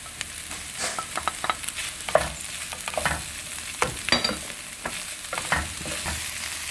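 Mushrooms going into a pan for an Italian-style spaghetti red sauce, with a steady sizzle of frying and repeated scraping stirs of a utensil against the pan, close and alone without talk.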